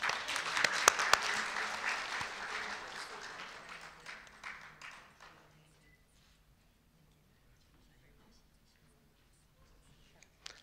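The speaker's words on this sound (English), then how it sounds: "Give applause," A dense burst of audience applause, loud at first, then thinning out to scattered claps and fading into quiet room noise.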